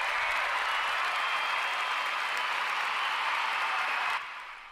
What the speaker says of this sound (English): It is just lovely, and I'll give you the applause.